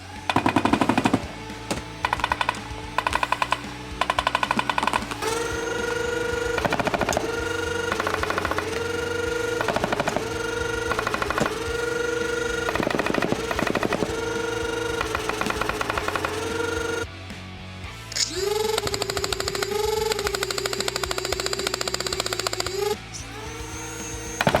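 A Nerf Rival Aliens ARMAT M56A2 Smartgun toy blaster firing at about 20 rounds per second gives a loud, continuous mechanical rattle and whir. It fires in long sustained bursts with a brief break and a shift in pitch partway through.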